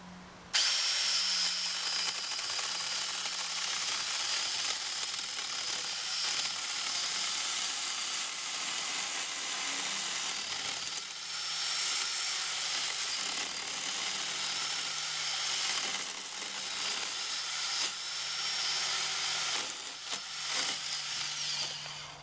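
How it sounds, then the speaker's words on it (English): A chainsaw drones continuously from start to finish, a loud, steady buzzing engine with slight rises and dips in pitch. "That's a chainsaw."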